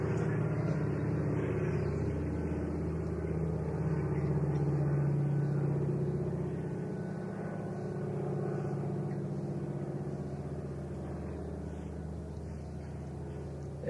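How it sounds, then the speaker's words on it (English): An aeroplane flies overhead during an outdoor public discussion in Madras in 1971, producing a continuous low droning rumble that swells slightly and then slowly fades across the clip, with no talking. "Let the aeroplane have its voice."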